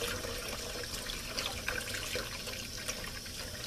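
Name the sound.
rinsing salt off gut in water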